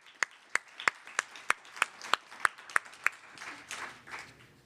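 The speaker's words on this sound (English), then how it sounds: "Give another round of applause." Audience at a cancer research foundation event claps in sharp, separate bursts at first, about ten distinct claps, then thins into softer scattered applause that fades out, with no talk over it.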